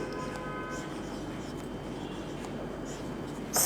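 Pen writing on paper in an English lesson: a steady, close scratching stroke sound throughout, fairly continuous with slight variations and a brief louder scrape at the very end, no talking.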